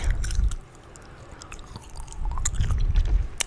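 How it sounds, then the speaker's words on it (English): Gum is chewed close to the microphone in a quiet setting, with moist smacking and squishing bites coming in a few bursts over several seconds, heavier at the start and end. "First, I gotta get the gum warmed up."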